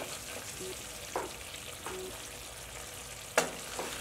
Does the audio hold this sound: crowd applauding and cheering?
no